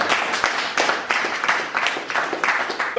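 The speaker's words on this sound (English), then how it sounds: "Thank you for clapping." An audience at a summer comedy course show applauds in rhythmic bursts of clapping. The hand claps come as distinct sharp transients at a steady pace and sound fairly close and lively.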